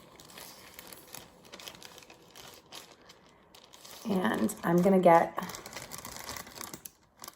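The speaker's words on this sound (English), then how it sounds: "So I'm gonna put my lima bean paper towel in the bottom of my plastic bag." A plastic bag crinkles and rustles in a few close bursts as a folded paper towel with lima beans is pushed into the bottom, with a person talking before and over it.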